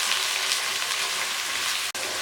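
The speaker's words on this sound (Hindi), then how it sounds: "इनको हम थोड़ी देर के लिए फ्राई कर लेंगे" Tinday (apple gourd) and green chilies frying in a pan, giving a dense, steady crackling sizzle that runs loud and unbroken, with a brief dropout near the end.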